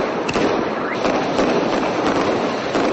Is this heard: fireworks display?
yes